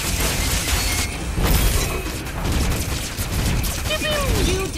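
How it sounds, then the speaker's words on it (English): Game explosions and bursts from a Mobile LegEnds match as a turret is destroyed, loud and dense throughout, with a rising-falling electronic tone near the end and voices talking over the action. "You destroy the turret!"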